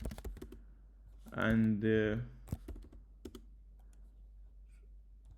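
Keys tapped on a computer keyboard while working in a JetBrains IDE: sparse, sharp clicks spaced out around a short spoken word, then quiet.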